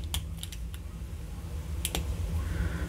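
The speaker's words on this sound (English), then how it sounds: "it doesn't have a very loud clicking sound when we close the cap, but it does close properly and it is very secure" A BIC fountain pen's plastic snap cap is pushed shut, making a few soft, quick clicks near the start and a sharper pair of snaps near the middle, close up against a quiet room.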